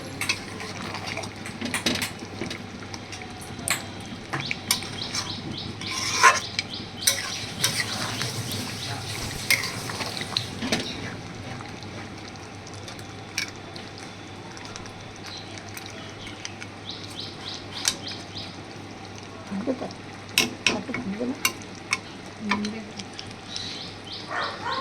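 A pot of mutton curry with potatoes cooks and is stirred, giving irregular clinks and scrapes of a utensil against the pot over a low hum and soft bubbling, with occasional faint voices.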